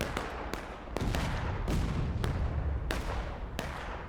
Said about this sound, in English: Good artillery shot from the CSA, hitting the Union line right in the face.